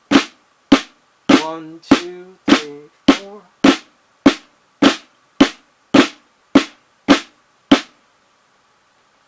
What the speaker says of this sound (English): the flam tap sounds like this.